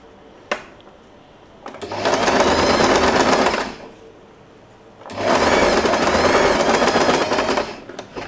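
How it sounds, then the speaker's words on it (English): A sewing machine stitches fabric while a scrunchie with a label is being made: two long runs of fast, steady mechanical stitching, close and loud, separated by a short pause with a faint click. "you are going to place the label here and continue sewing the fabric"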